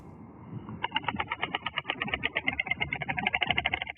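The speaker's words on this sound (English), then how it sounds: "In white stork world, that clacking noise is a sign of potential flirting" Rapid wooden clattering in fast, even bursts of a white stork clacking its bill, fairly close against a quiet outdoor background.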